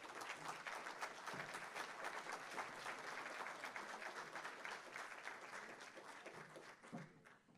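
Sustained audience applause fills a summit hall after a lunchtime keynote at a USVI tourism conference, dense and steady before thinning slightly toward the end.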